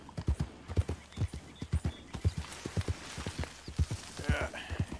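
Horse hooves clip-clop in a steady walking rhythm in the video game Red Dead Redemption II, close by, with a short whinny-like sound near the end.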